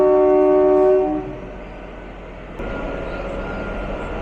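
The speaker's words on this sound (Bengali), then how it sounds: "আমাদের ট্রেন কিন্তু ছেড়ে দিল, আর কালকার উদ্দেশ্যে রওনা হয়ে গেলাম আমরা" The Kalka–Shimla toy train sounds a long, loud horn blast as it departs Shimla station, then the horn fades into a steady rumble of the moving narrow-gauge train.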